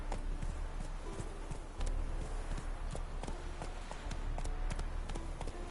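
Roach the horse gallops in The Witcher 3, hooves clip-clopping in a steady rapid rhythm over loud game ambience across the whole stretch, fairly near.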